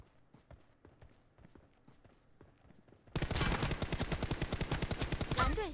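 Rapid automatic gunfire in PUBG Mobile deathmatch, a dense loud burst of evenly spaced shots after quieter scattered distant shots, fired from the hip with an assault rifle.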